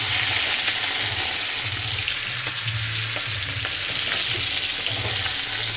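A fish head sizzles loudly in oil in a pan for a curry, with a constant dense crackle and a soft, repeated low stirring or scraping throughout.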